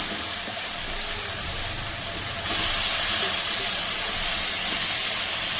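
Boiled potatoes are dropped into fried masala, and a sudden burst of loud, close sizzling hiss replaces the quieter frying and holds steady to the end.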